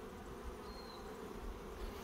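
Bees flying in and out of a hive, a soft steady buzzing hum close by, low and continuous with no voices.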